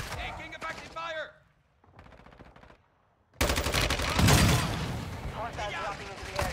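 Gunfire in Call of Duty: Warzone 2, a loud, continuous burst of rapid shots that sets in suddenly and runs on to the end after brief radio voice chatter and a near-silent gap.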